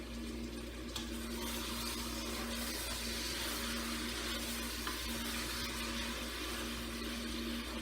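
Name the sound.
lamb meat frying in a pan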